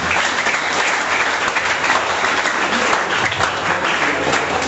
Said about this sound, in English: May you clap for her again.